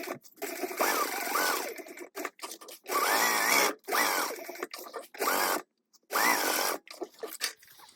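Short bursts of a sewing machine basting a fabric pocket to a wristlet panel at an eighth-inch seam allowance, each a rapid whirring run of about a second separated by brief pauses, close and clear.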